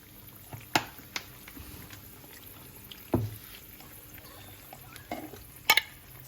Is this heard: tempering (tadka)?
yes